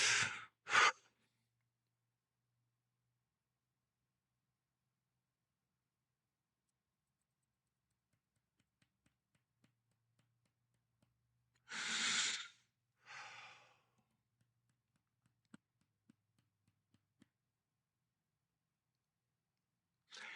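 Imitated breathing of someone about to pass out, made by a single person: a few heavy breaths, two quick ones at the start and two more near the middle, separated by long quiet gaps.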